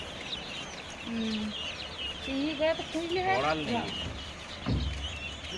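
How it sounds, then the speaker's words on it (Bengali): Black Kadaknath chickens clucking and calling in short, uneven bursts, with people talking nearby over a steady outdoor background. "এই কালো মুরগি"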